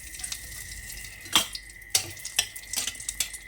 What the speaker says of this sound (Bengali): কড়াইতে তেল দিয়ে দিয়েছি দিয়ে দেবো আগে দুটো শুকনো লঙ্কা